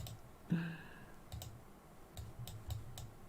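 A computer mouse clicks several times in quiet succession, soft and close, with a brief louder tonal blip near the start.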